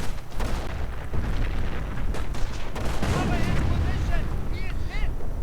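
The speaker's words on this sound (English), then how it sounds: "And artillery against the Nebelwerfer" Artillery shells pound a German Nebelwerfer rocket launcher in a World War II strategy game, a steady barrage of booming impacts and explosions layered with battle noise, with no talk.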